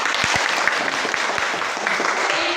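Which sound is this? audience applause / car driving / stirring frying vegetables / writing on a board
audience applause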